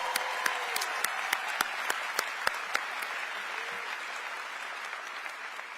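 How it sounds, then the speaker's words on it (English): A crowd at Atlanta's State of the City address applauds medal-winning senior Olympians, a broad steady roar of clapping with sharp individual claps popping out near the front, fading slightly toward the end. "Give them a round of applause."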